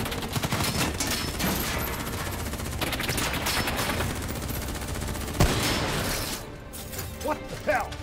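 Gunfire rattles in the Call of Duty Black Ops 3 campaign, dense bursts of automatic shots and mechanical clatter, loud and close, with a sharp crack near the end.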